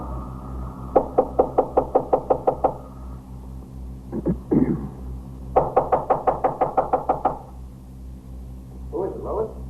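Police officers pound on an apartment door in a 1950s radio crime drama, two loud bursts of rapid, evenly spaced knocks separated by a short scuffling pause.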